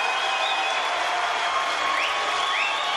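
A crowd gives sustained, dense applause at a Mosconi Cup pool match, a loud steady clapping wash with a few faint whistles.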